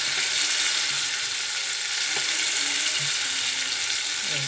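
Brinjal pieces frying in a pan with tomatoes, a loud continuous hiss of sizzling oil that stays steady throughout.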